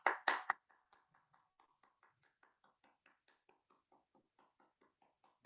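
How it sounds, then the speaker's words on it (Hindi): A few loud hand claps burst out up close at a welcome for a speaker at a seminar, then thin out into faint, evenly spaced claps. "जोरदार ताली होनी चाहिए सर के लिए।"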